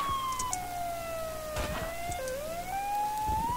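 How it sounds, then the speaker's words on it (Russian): A police siren wails in the video game Gothland, a steady wavering tone that slowly dips and rises, heard at moderate distance over a low ambient rumble. "И уже за нами приехала полиция. Как вы слышите?"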